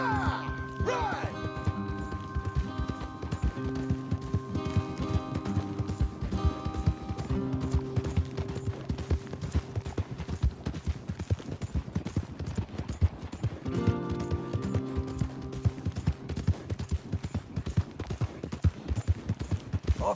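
Horse hooves pound in a steady, rapid gallop in the Western video game Red Dead Redemption 2, continuous and prominent throughout, mixed with tonal game music and occasional brief voices.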